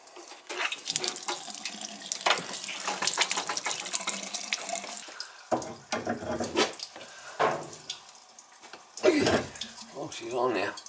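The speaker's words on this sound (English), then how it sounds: "Just open up every faucet and leave it open" Water gushing from an open outdoor sill faucet, a steady splashing hiss broken by brief pauses, with people talking over it nearby.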